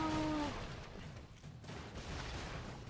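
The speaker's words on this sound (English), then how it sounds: "Explosion!" A faint, low rumbling explosion in the action game Broforce, a short tone fading at the start, then a diffuse booming wash and crackle sustained at low volume.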